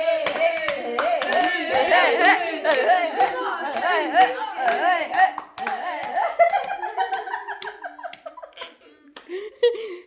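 Hands clap in time during a children's class action song at home, sharp rhythmic claps under singing voices, with a few laughs and the clapping thinning out toward the end.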